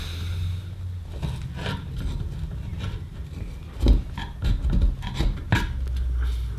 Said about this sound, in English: I should be able to pick that up with a chisel